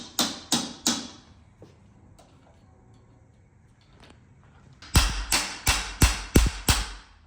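Sharp hammer taps strike the bolts on a SCOR 2030 down country mountain bike, a quick trio of loud metallic hits, a pause with faint handling, then a rapid run of six more close, ringing blows.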